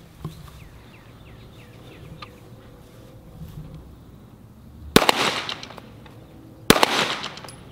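A Smith & Wesson M&P M2.0 pistol fires two loud, sharp shots about two seconds apart at an outdoor range, each with a brief echo. Faint birdsong is audible beforehand.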